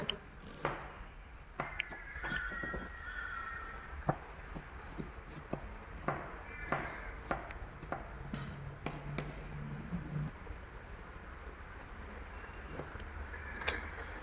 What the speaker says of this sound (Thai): ส่วนผักนะคะเราก็จะไปหั่นเป็นชิ้นเล็ก ๆ